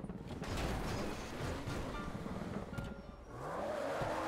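A car engine in the video game GTA 5, a continuous mechanical drone with ratcheting, gear-like noise, fairly steady with a brief dip near the end, heard alone with no talking.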